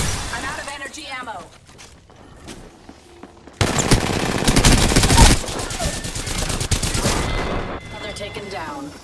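Bursts of automatic gunfire in Apex Legends, quieter sporadic shots at first, then a loud sustained barrage of rapid rounds, with a voice speaking over the action.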